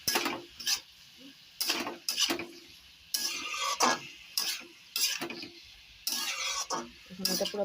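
Cabbage with turmeric frying in a pan, a spatula scraping and clanking against the pan in repeated bursts over a low sizzle, close by.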